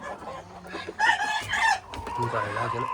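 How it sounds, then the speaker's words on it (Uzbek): Andijan black chickens cluck and crow in a bird yard, with one loud crow rising in the middle among nearby clucking; a voice is faintly audible underneath. "Xudo xolasa baraka topadigan Andijon qora tovuqlarimiz bo'ladi."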